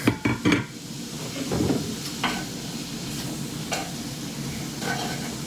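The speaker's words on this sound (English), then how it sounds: "They're gonna go into the pan with the garlic." Rinsed, drained chickpeas dropped into a pan with garlic: a few quick clattering knocks at the start, then a steady low sizzle with scattered light taps of a utensil against the pan, close and moderately loud, no talk.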